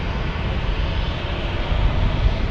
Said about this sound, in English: here goes Delta Airlines. This is going to JFK